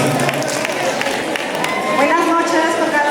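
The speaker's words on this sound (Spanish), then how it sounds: "¿Dónde están los aplausos?" Audience at an anniversary celebration breaks into applause and cheering, a loud continuous mass of claps and voices with speech blending in near the end.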